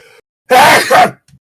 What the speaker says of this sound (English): Every time my dad sneezes, it sounds like he's yelling, oh shit.